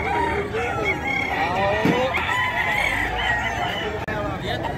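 Roosters crowing and hens clucking among a crowd at a chicken market in Bocaue, with steady background murmur and no clear foreground talk.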